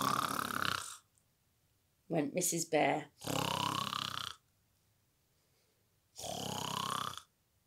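A woman reading a children's bedtime story aloud imitates loud snoring, with a few drawn-out snore sounds alone between spoken lines of the story.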